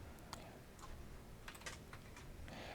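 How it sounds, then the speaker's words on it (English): Soft, sparse keystrokes tap on a computer keyboard, a handful of light clicks spread unevenly over a quiet room, faint and close. "so I'm typing 90 over here"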